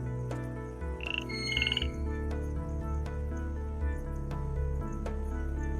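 Cartoonish frog in an adventure game croaking over a layered musical and ambient background, with a bright squeaky chirp about a second in and soft drip-like plinks scattered throughout.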